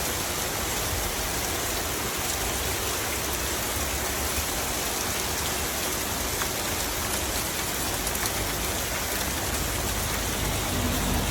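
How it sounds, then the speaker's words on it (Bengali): Steady rain falls outdoors in Canada on a September day before a rainbow appears, a dense, even wash of drops that stays loud and close the whole time, with no voices. "আপনারা দেখে আসেন যে এই রংধনু হওয়ার আগের সুন্দর বৃষ্টিটা"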